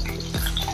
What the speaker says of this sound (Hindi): अभी आलू को हम इसमें तलेंगे।